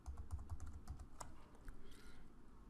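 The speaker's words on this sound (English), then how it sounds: "type in the password that you created for the admin" Faint, quick taps on a computer keyboard while a password is entered on a Windows PC, a short run of soft keystrokes near the mic followed by quieter room tone.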